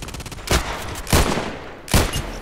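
A Colt Python Elite revolver fired in the shooter game Contract Wars, three sharp loud shots spaced evenly about half a second apart, each with a short booming tail.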